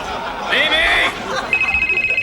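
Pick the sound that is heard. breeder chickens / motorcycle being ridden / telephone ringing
telephone ringing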